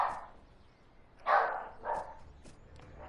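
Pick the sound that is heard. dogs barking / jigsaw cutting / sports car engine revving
dogs barking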